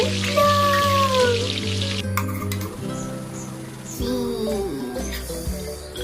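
Gram-flour fritters frying in oil in a toy-scale play kitchen, a steady soft hiss and crackle sitting under sustained tonal background music, strongest in the first couple of seconds.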